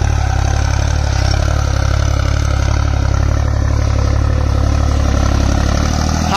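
A tractor runs fast in high gear pulling a harrow, a loud, constant engine drone with steady mechanical clatter throughout, no voices.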